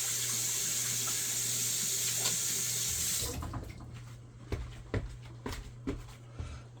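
Tap water runs steadily from a kitchen faucet into a sink for hands being washed, a loud continuous broadband rush for about three seconds that then stops, leaving quieter drips, clinks and small handling sounds.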